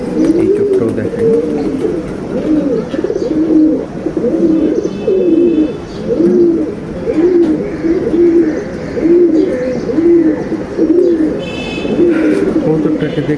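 Pigeon cooing, likely from an older pigeon of the Eagle line, repeats in steady rolling phrases close by through the whole stretch, loud and continuous, with faint chirps from other birds behind.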